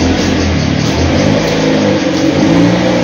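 A Toyota Vios fitted with lowering springs reverses with a steady, loud mid-pitched engine drone and some revving, close by and continuous with no talking.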